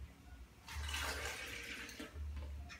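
Milk pours into a blender jar of chopped bananas for a banana smoothie, a soft splashing, gurgling flow that swells in the middle and tapers off, quiet and steady with no talking.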